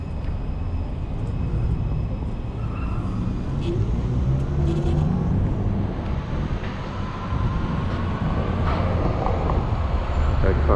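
Busy Sunday road traffic heard while riding a Varla Pegasus electric scooter, a constant loud rumble of passing cars buffeted by wind noise, with scattered voices in the background.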